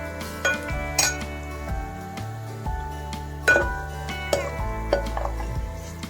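Onions being fried and stirred in a pan for egg masala curry, with a spoon clinking and scraping against the metal in irregular strokes over a faint sizzle, no voices.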